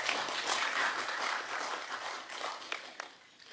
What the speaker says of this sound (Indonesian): Mari kita tepuk tangan sekali lagi